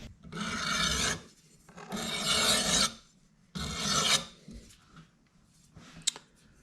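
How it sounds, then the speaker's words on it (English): Rusty knife blades from a baler's net wrap system being sharpened with a file, three long rasping strokes each lasting over a second, close and fairly loud, separated by short pauses, with a faint click near the end. "All the knife blades sharpened."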